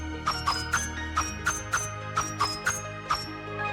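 Bright metallic ringing overtones sound from a sword in the PS2 action game Ys VI: The Ark of Napishtim, a string of about a dozen quick chiming hits over faint game background.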